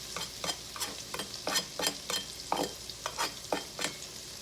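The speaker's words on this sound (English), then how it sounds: "we're just going to throw these onions in. Let them saute." Chopped onions sautéing and being stirred in a pot of melted butter for broccoli cheese soup, with repeated scraping stirs every half second over a steady close sizzle, no voices.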